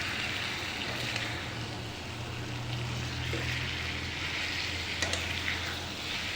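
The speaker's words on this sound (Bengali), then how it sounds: "দেখো মাংসটা ফ্রাই হয়ে যাচ্ছে।" Chicken pieces frying in a pan give a continuous, even sizzle close by, with a low steady hum under it and a few soft clicks of stirring.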